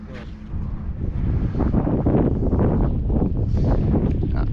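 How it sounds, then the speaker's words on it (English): Strong wind buffeting at a fishing pier, a loud, steady blustery roar that swells and stays constant throughout. "This wind is dictating which way I have to cast."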